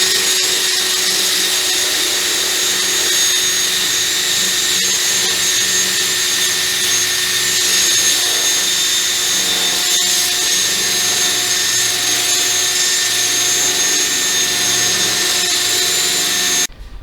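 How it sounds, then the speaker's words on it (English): A drill fitted with grinding pads runs steadily against a car bumper, shaving down the side markers in one continuous high whine that holds for about sixteen seconds before it stops abruptly. "So we're gonna take the drill and go ahead and use those grinding pads."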